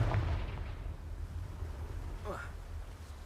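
The Confringo explosive spell in Hogwarts Legacy goes off as a deep, booming blast at the start, trailing into low rumble, with a quick rising whoosh partway through.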